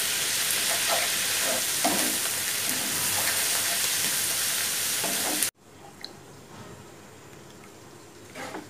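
Shredded cabbage frying in a pan with egg, stirred under steady loud sizzling for several seconds before the sizzle suddenly drops to a quieter crackle with a few faint scrapes.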